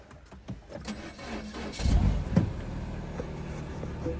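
An old Mini car engine cranking and catching close by, a burst of starter churn settling into a rough low idle, preceded by faint clicks and handling noises.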